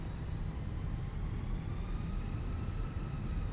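Simulated Airbus A320 taxiing in the Fenix A320 flight simulator, a continuous low engine rumble with a steady rising turbine whine, with no pauses.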